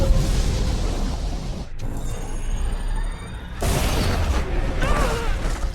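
A water bomb explodes in a film scene, with a loud rushing burst that cuts out briefly and then surges back as churning, roaring water-blast noise.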